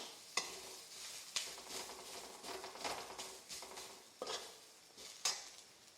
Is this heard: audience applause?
no